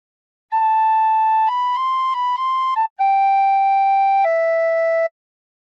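A tin whistle plays a phrase of "The Battle Hymn of the Republic", clear pure sustained notes stepping between pitches, with one short breath gap before a final falling pair of held notes, close and alone.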